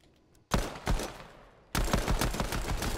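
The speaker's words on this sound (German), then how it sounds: "die Pistole knallt" Rapid bursts of golden pistol gunfire in a video game ring out loud and close, a short volley followed by a dense rattling string of shots after a brief lull.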